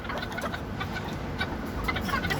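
Bantam chicken chicks clucking and peeping in a steady, close chorus, with soft overlapping calls throughout and no voices.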